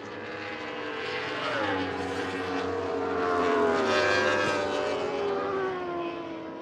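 A superbike racing motorcycle at a Grobnik, Croatia championship race rises in pitch as it approaches along the start-finish straight, then fades, heard from a distance with a steady engine drone.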